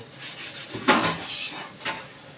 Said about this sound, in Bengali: বন্ধুরা, এখন এই যে কড়াই মাখছি।